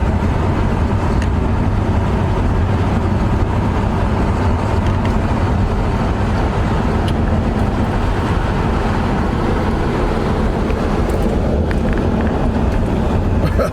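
A 1973 Chevy Nova's engine runs steadily as the car accelerates on its first drive in 20 years, a loud, continuous low rumble with a fluttery edge and broadband road noise throughout, with no voices.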